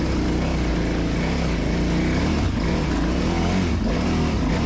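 A KTM Adventure 990 R motorcycle crawls over rocky ground in first gear, its engine droning loudly and steadily throughout with faint rhythmic knocks on top and no talking.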